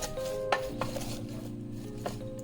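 A spoon scrapes and clinks against a pot while lamb curry is stirred, several short metallic knocks and scrapes spread over a low, steady hum, fairly quiet and close.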